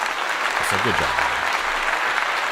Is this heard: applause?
yes